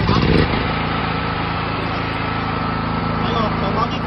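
A 15 hp gasoline engine generator runs steadily after a key start, a loud, even mechanical drone with a firm low hum and a brief louder burst at the very beginning.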